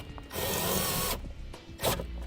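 A power drill drives self-tapping screws while an air compressor is mounted on a 2009 Dodge. There are two close bursts of motor whir, one longer and one short, with quiet gaps between them.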